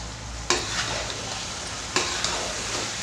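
Roasted brinjal and tomato paste stirred into a chicken gravy in a pan, with a soft continuous sizzle and two distinct scraping stirs of the spoon close up.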